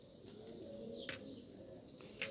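Pet pigeon, a domestic game bird with stiff wings, cooing softly and steadily up close indoors, with a couple of brief brighter chirps standing out over the low continuous murmur.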